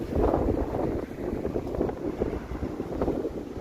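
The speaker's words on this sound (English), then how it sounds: "this is a very breezy day here" Gusty wind buffeting the microphone on a breezy Toronto street, a steady low rumbling roar that surges and fades, with no talk.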